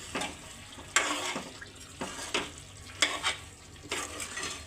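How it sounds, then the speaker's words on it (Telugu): Chicken curry being stirred after chicken masala is added: a low steady sizzle broken by rhythmic scraping strokes of a spoon against the pan, about five or six passes, quiet and close with no talking. "కొంచెం చికెన్ మసాలా, ఒకసారి కలుపుకుంటాను."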